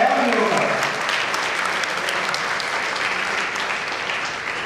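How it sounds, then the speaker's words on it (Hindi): An audience in a college hall at a skill development workshop applauds, a loud, sustained wash of many hands clapping that eases slightly toward the end. "एक बार बहुत तालियां बजाएं"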